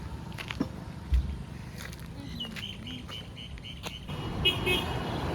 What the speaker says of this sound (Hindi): इतना गाड़ी आ रहा है, उठाने भी डर लग रहा है हम लोग को।